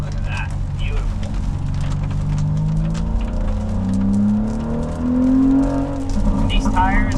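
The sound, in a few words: car driving through corners on wet mountain road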